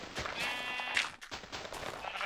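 In the farming game Muse Farms, a single sheep lets out a clear, wavering bleat near the start, with a second softer bleat following amid light background noise.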